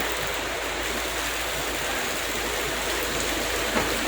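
Steady rain falls in the early morning dark, a broad, even hiss of drops on surfaces that holds at constant loudness throughout, close and enveloping with no voices.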